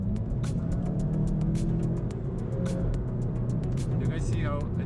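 VW Golf R on stock tires accelerating through a turn, a steady engine drone running underneath someone talking over it, with some sharp ticks scattered across it.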